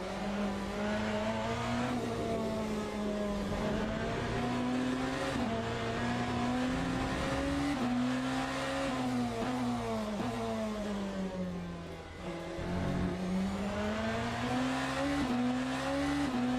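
A BMW Hypercar engine at half throttle on the Interlagos circuit in Le Mans Ultimate drones loudly and steadily, its pitch rising and dipping gently as the car works through corners, with no voices.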